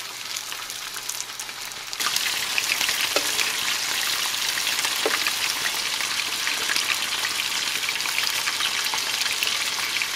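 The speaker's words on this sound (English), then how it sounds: "now you're just gonna warm up your tortillas right here" Tortillas warm on a hot griddle for discada street tacos, a steady crackling sizzle that swells loudly after a quieter start and holds with faint pops throughout.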